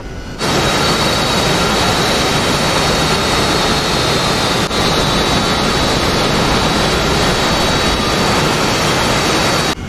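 Jet aircraft taking off in the DCS flight simulator: a loud, steady engine roar with broadband rumble and a high whine, sustained for the whole stretch.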